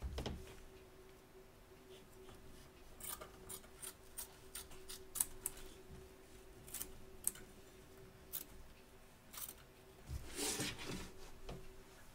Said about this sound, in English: Trim away the excess batting from around the edge of the stitch line